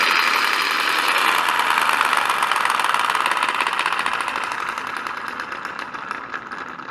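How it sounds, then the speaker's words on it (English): An electric impact wrench from a VEVOR hydraulic jack kit runs in loosen mode with no load, a steady whirring buzz that gradually fades toward the end. "I got the plug now in the impact wrench"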